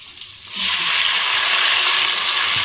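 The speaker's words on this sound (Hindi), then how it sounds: "अब हम इसमें पानी शामिल करेंगे" Water hits a hot pan of sizzling garlic and cumin, bursting into a loud, steady frying hiss that starts abruptly and holds for a couple of seconds.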